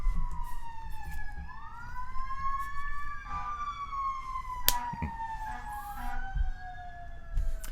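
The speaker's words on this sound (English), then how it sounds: "The sirens are so much." Wailing sirens sweep up and down continuously, with two tones overlapping at times and a few sharp knocks in between, fairly close.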